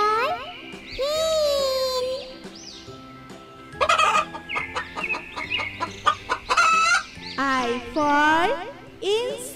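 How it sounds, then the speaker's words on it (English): A hen clucks and calls in a sequence of rising, warbling squawks and short rapid clucks, up close and fairly loud, with varied bursts of barnyard fowl vocalizing throughout. "H for hen."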